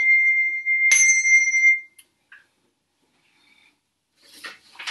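An English handbell rings a clear, sustained tone that swells with a fresh stroke, then is damped to silence, followed by faint handling rubs and soft clatter nearby.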